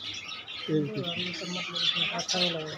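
Small birds chirp and squawk in an enclosure at the Sarnath mini zoo, a busy mix of close calls running throughout while someone talks over them.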